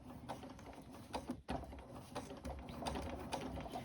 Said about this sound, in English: I'm just sewing about 2 millimeters across from where this seam line is here